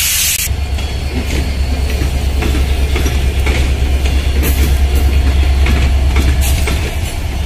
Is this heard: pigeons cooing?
no